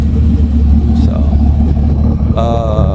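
A fifth-generation Camaro 2SS with a 6.2L V8 and six-speed sits running close by, a deep, steady, throbbing idle rumble that fills the short stretch.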